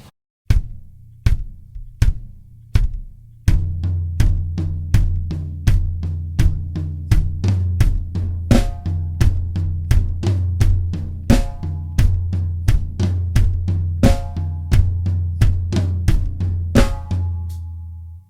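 A drum kit groove from a song, with flams on the floor tom and snare over bass drum. It opens with sparse, spaced hits, then settles into a steady, loud, driving pattern alone with no talk.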